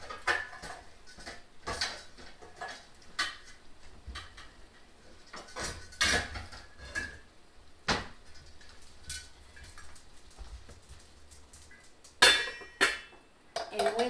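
Metal pot lid clanking onto a pan of hamburger hash with melting cheese in a home kitchen, a series of sharp rattles and clinks spread out over time, with quiet pauses between and someone speaking now and then.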